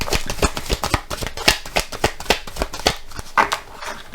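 Tarot cards shuffled and drawn during a reading, a quick run of crisp papery riffles and light card slaps that keep up a steady, busy patter close by, with no voices.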